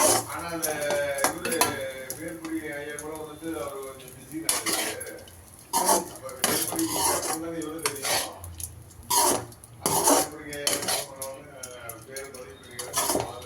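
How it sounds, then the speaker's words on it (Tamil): A metal spoon stirs ragi vermicelli in a pot on a low stove, with repeated clinks and scrapes against the pot and faint sizzling, under a person talking. "இதை கலக்க வேண்டியது கலக்கணும் நல்லா கலந்துட்டு நல்லா கலக்கணும்"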